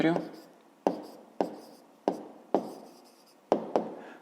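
Side lengths of a triangle are written out for a fifth-grade math exercise, about seven distinct sharp strokes at uneven intervals, each fading quickly, close and clear.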